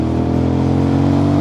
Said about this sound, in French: C'est une moto, là j'accélère tout doucement.